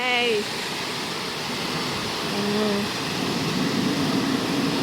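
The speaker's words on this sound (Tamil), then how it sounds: "இப்போ தண்ணி அடிக்குதே" Water sprays from a self-service car wash wand in Italy during winter, a steady, loud broadband hiss that runs the whole time while someone talks over it.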